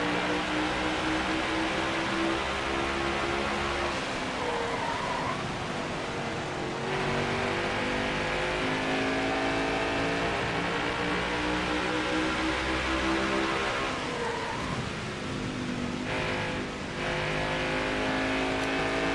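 Stock car engines roar continuously in a NASCAR Heat 5 race at Richmond, loud and sustained with gear-shift dips and surges, cars passing close, no voices.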